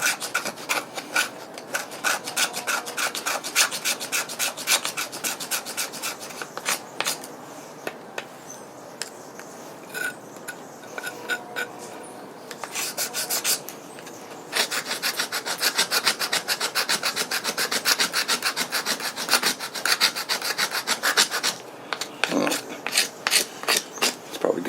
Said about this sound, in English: Seems a little easier to pull back on a knife to do shavings than it is push.